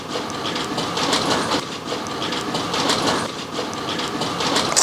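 An amusement park train riding on rails, a steady close rattle and clickety-clack of wheels over track joints, continuous and fairly loud throughout with no talk.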